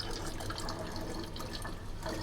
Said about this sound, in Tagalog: I-fill muna ng tubig.